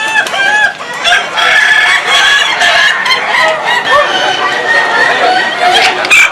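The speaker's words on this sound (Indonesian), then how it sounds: "Ratusan peserta dari seluruh penjuru tanah air mengadu kekhasan atau keunikan suara ayam asli" Ayam Ketawa laughing chickens, a native Indonesian breed, call loudly and repeatedly at a contest, their rapid cackling and crowing overlapping amid crowd chatter.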